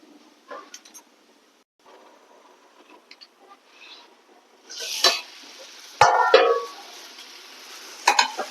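Steamed momos being tossed and stirred in a hot pan, with soft scraping and sizzling that build into a few louder clattering bursts near the end, close up, with no talking.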